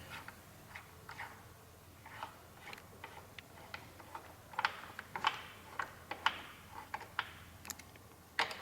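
A 6mm T-handle tightens rear set bolts on a 2015 Suzuki GSX-R600 motorcycle, giving a series of faint, irregular metallic ticks and clicks spread through the quiet.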